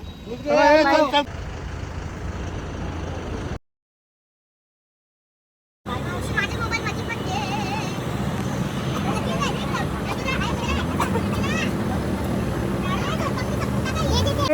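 A bus drives near the India–Nepal border, its steady engine drone and road rumble heard from inside the cabin, with brief voices early on, a short silent gap, then continuous vehicle noise.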